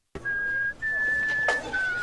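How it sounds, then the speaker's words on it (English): Gizmo, the small furry creature in Gremlins 2, whistles a simple tune in high, clear sustained notes with brief gaps, fairly loud and close. "A maintenance guy delivers a package to the lab section of the building, only to hear Gizmo whistling."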